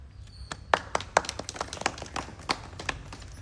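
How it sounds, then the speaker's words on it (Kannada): An audience claps at a religious discourse, with sparse, uneven hand claps popping out at irregular moments over a quiet room rather than a full ovation. "ಅಷ್ಟು ಹೇಳಿ ಇವರು ಚಪ್ಪಾಳೆ ಹೊಡೆದ್ರು"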